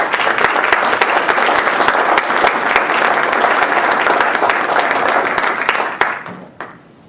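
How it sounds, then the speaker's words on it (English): Renewed applause at a city council meeting, honoring the finance department, with dense steady clapping from a room of people that holds for six seconds and then trails off into a few scattered last claps. "Go ahead and clap again."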